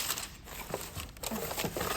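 A small plastic bag crinkles and rustles in quick irregular bursts while being handled during a craft session, close and fairly faint, with no talk over it.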